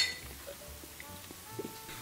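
Beer glasses clink together in a toast at a sports bar, a few light glassy taps over low room noise and background chatter.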